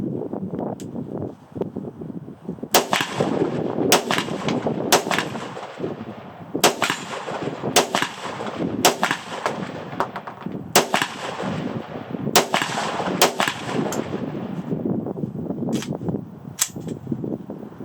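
Rapid string of sharp gunshots from an M+M M10x rifle firing Red Army Standard ammunition on a non-adverse gas setting, about a dozen cracks spaced a second or so apart, loud and close, run until the magazine empties.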